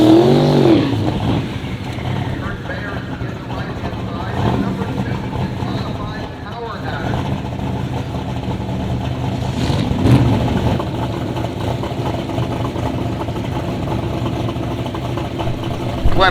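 A gasser drag racing car accelerates hard down the strip at a hot rod drag event, engine roaring loudly and steadily with a rising, sustained drone as it pulls away, while an announcer talks over it.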